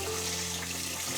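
Water runs and sloshes in a bowl as sushi rice is rinsed, a brief, continuous, close wash with a faint low hum beneath.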